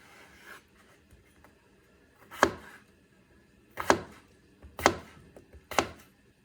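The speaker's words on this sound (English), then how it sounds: "So just keep dicing those potatoes." A knife dices Yukon Gold potatoes on a cutting board in a home kitchen, four sharp, close chopping strikes spaced about a second apart against a quiet background, with no talking.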